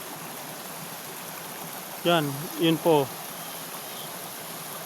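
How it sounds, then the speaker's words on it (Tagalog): A rural stream runs toward a small waterfall, giving a soft, constant rushing wash throughout, with someone speaking briefly over it midway. "May talon ng maliit yan sa unahan"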